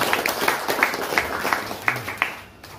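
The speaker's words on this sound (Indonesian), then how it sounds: "Give applause, beri tepuk tangan Bapak Ibu" An audience gives applause at an Indonesian teachers' session, a sparse, fairly quiet patter of a few people clapping in a loose irregular rhythm, fading near the end.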